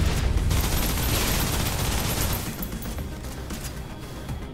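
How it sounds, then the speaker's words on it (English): Dense, continuous suppressive gunfire in the shooter game Snowbreak, a loud close roar of rapid shots and blasts that fills the scene, easing slightly partway through but carrying on to the end. "Suppressive fire"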